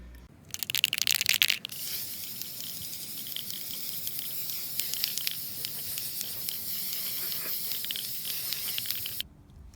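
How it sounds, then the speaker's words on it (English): Spray paint hissing onto shelves, grimy green paint from an aerosol can: a loud opening burst, then a long steady spray with faint crackly spatter that cuts off abruptly near the end. "we take the grimy green paint and spray paint these shelves"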